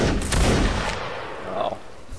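A volley of musket fire in the game Mount & Blade Warband crashes out at once as a broad roaring blast, then trails off into a rolling, fading rumble over the next two seconds.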